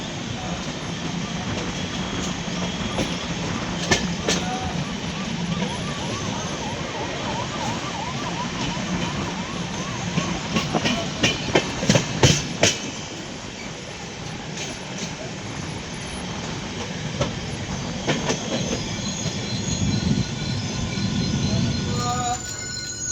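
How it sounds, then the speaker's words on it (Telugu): An MGR Chennai Superfast Express (12163) train slowing to a stop near Kanumalapalle station by Rajampet, with a steady rolling rumble, wheel and rail noise and a few sharp clanks midway, continuous and fairly loud throughout. "ఈ ట్రైన్ రాజంపేట సమీపంలో ఉన్న కనుమలోపల్లె స్టేషన్ వద్ద ఎందుకో స్లో అయి ఆగిపోయింది"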